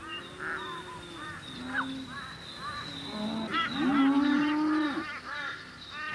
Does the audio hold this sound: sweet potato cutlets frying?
no